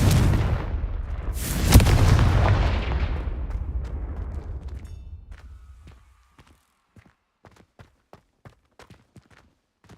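A Confringo fire spell in the Hogwarts Legacy video game detonates in a loud, booming blast that rumbles and decays over several seconds, followed by a run of light, evenly spaced clicking footsteps in near silence.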